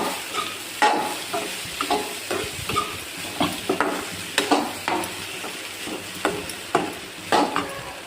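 Cooked rice tipped into a hot pan and stirred for Maggi rice, with ghee in the pan: repeated scraping, tapping strokes of a spoon against the pan over a soft, steady sizzle.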